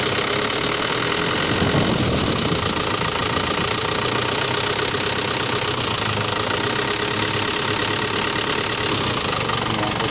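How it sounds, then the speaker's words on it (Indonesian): A car engine revving gently and steadily while the radiator is flushed with a hose, a continuous mid-pitched hum with faint rattling and hiss, close and even throughout. "Jadi kita kocorin semacam ini dengan selang sambil kita gas."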